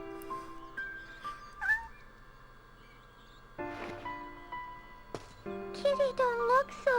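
Cat meowing inside the video game Shenmue, several whiny rising-and-falling meows spaced across the clip, moderately loud over soft background game music.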